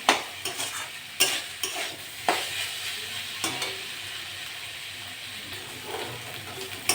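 White saag greens and potatoes fry in a pan while a spatula stirs them. Repeated scraping knocks punctuate a continuous close sizzle, and no one speaks.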